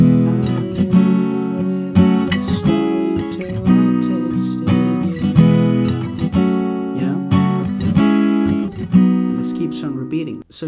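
Acoustic guitar strummed through the full-bar chorus chords of a pop song, a steady, fairly loud rhythmic strum with repeated chord changes, played alone without singing or talk.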